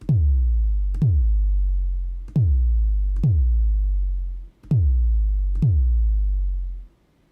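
Six deep, booming synthesized 808 kick drum hits made in Xfer Serum, each a punchy thump with a long, pitch-dropping low tail, spaced irregularly and heard alone.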